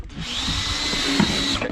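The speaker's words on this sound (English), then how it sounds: "just drill right down in" Power drill boring into an octopus trap, a loud continuous whining drone of about two seconds with a slight bite midway as the bit cuts in, close to the microphone.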